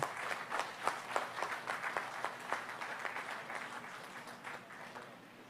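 Faint, fairly small round of applause at the inauguration of the Samar Pacific Coastal Road Project, individual claps distinct and rhythmic, heard at a distance and tapering off over several seconds.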